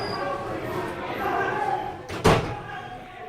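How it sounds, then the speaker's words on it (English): An indoor door is slammed shut with a single loud bang partway through, set against a murmuring room background. "But close the door if you're going to open the door."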